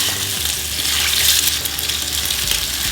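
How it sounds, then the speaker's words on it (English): Water poured into a hot frying pan with three eggs cooking, a steady close hiss and splash of liquid hitting the hot surface, loud and continuous with no talking. "Put some water in the pan to give it a little steam, and then cover it to cook the top of the egg."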